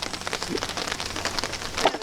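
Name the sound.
rain falling outdoors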